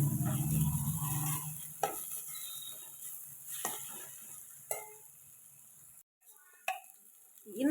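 Masala with turmeric sautéing in oil for a sardine curry, giving a soft, low sizzle broken by a few sharp spatula scrapes and clicks against the pan, with no talking.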